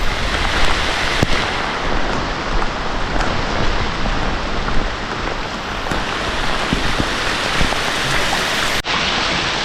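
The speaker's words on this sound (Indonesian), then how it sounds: "sekarang hujan belum juga reda" Steady, heavy rain falls on a remote house in a bamboo forest, a dense continuous hiss with scattered louder drops and a few sharp knocks, no talking.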